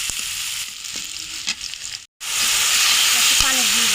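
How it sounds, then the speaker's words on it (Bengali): Onions fry in oil in a wok with a loud, continuous sizzle and stirring scrapes close by, broken by a brief silent cut before the hiss resumes even stronger. "কড়াইয়ের মধ্যে তেল দিয়ে পেঁয়াজ দিয়ে দিয়েছি, তেল নেওয়ার পরে আর এখন পেঁয়াজটা একটু ভাজা ভাজা করে নেব।"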